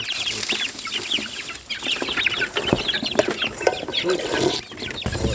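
A flock of free-range native chickens clucks and chirps continuously up close on a very cold, windy day, many overlapping calls with occasional bumps and rustles.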